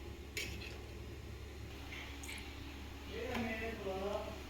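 Spoon stirring ingredients for a fish curry in a cooking pot, with soft scraping and occasional faint metallic clinks over low kitchen hum, fairly quiet throughout.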